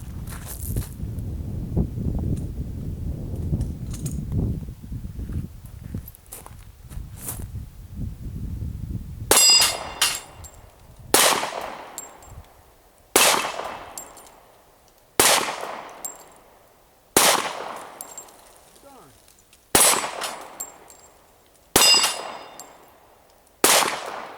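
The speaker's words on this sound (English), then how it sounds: "I'm going to run a couple mags through here at the plates" Sig Pro 2340 pistol shots ringing off steel plates outdoors, eight sharp evenly spaced cracks each followed by a metallic clang and decaying ring, after a stretch of low rumbling background noise.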